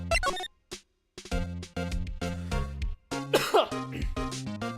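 A man coughs and clears his throat repeatedly, harsh rasping bursts in quick succession with brief pauses, close and loud, and a stretch of scratchy throat clearing near the end.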